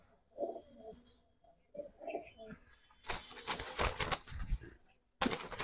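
Racing pigeons coo softly in short, low bursts close by, followed by louder rustling and fluttering noises.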